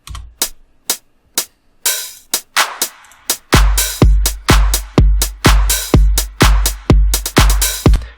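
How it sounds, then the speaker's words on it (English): Crisp hi-hat samples tick in a regular pattern in an electronic track. After a sparse opening, a deep thumping beat joins and the hats fall on the off beats, loud and close. "And those are the hi-hats, which sound like this in the track."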